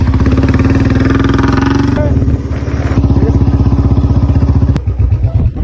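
Royal Enfield Bullet motorcycle engine running with a steady, loud low thump that carries under voices throughout, easing slightly midway and ending in a brief sharp click.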